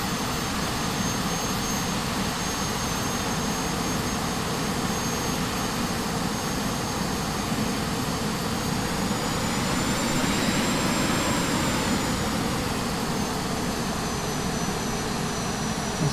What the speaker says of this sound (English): We've got the forward thrust on.